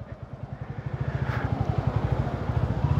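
A Royal Enfield Classic 350 filtering through city traffic, its single-cylinder engine thumping in a steady, fast, loud pulse close to the listener with no voices.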